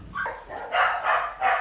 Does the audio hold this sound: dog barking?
yes